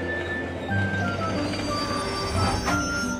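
A cartoon train pulls in with sustained high wheel squeals over a low rumbling engine drone, fairly loud and close, the squeal swelling briefly near the end.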